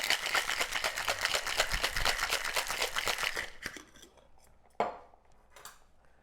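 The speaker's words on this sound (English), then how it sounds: "add your ice and get ready to shake this bad boy" Ice rattling hard inside a cocktail shaker as a strawberry martini is shaken, a dense rapid clatter that stops abruptly, followed by a few scattered clinks and knocks.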